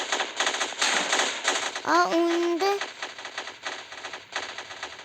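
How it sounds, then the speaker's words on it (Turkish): Rapid bursts of Roblox soldier-game gunfire crackle alongside a brief rising electronic tone, with a voice talking over the action. "Silah sesini eşidə bilərsiniz."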